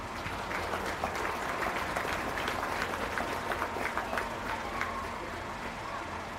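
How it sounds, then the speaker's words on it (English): An audience at a county fair beef show applauds a young man after his steer is judged in the crossbred market class, a steady, dense patter of many hands sustained throughout at moderate loudness. "Let's give that a young man a round of applause"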